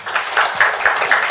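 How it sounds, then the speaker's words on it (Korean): Audience applause at a Korean labour union panel discussion on leading a welfare state, a brief burst of dense clapping with a few slightly louder peaks, steady and close throughout. "박수 부탁드립니다."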